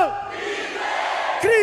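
A church congregation at a youth conference shouts back a short chant in unison, a loud massed roar of voices following a leader's call, with a new shout rising at the end.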